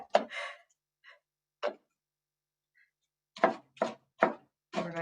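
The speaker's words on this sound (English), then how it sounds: "We're going to roughly chop it." A knife roughly chops fruit on a cutting board in a series of distinct, close thuds, a few spaced strikes first, then a quicker run of four or five chops after a pause.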